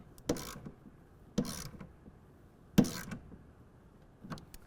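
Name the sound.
torque wrench tightening tonneau cover rail bolt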